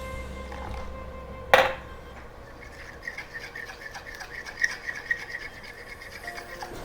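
A spoon scrapes and rubs through a thick peanut butter mixture for Filipino kare-kare, breaking up lumps; one sharp clack near the start, then a steady run of soft scraping strokes, close up, with no talk.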